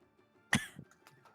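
A single short cough bursts out sharply, followed by a softer throaty tail and a faint catch of breath, close and isolated against near silence.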